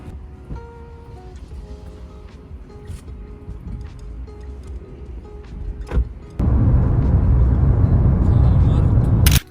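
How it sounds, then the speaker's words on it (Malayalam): A car sits nearby with faint mechanical sounds and clicks, then a loud, steady rumble swells up and dominates the last few seconds. Background voices are heard. "ഞാൻ കാർ എടുക്കാൻ പോവാണ്"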